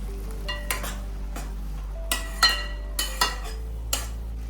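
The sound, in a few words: pav bhaji vegetables with frozen peas boiling in pan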